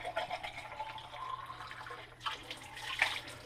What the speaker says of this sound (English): Rinse it out several times.